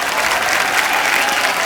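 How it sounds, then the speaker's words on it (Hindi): Loud, steady applause from a large studio audience at The Kapil Sharma Show, a continuous wash of clapping filling the room. "उसके लिए पहले जोरदार तालियां।"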